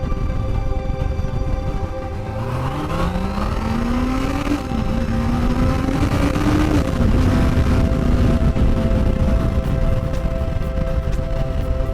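Honda CBR 650 R motorcycle being ridden, its engine note rising steadily in pitch as it accelerates over several seconds, loud and close over a continuous wind roar.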